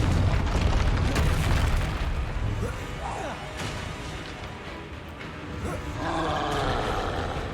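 Confringo spell blast in the Hogwarts Legacy video game, a loud rumbling boom that rolls on as a sustained roar, followed by a crackling burst near the end; talking can be heard underneath.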